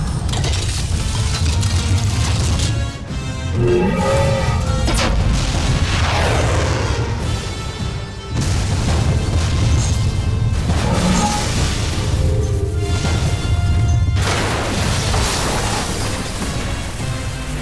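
Voltes V robot firing its Voltes Bazooka, a loud continuous run of mechanical clanks, ratcheting and booming blasts over a dense roaring bed, with bursts of impact around the middle and end.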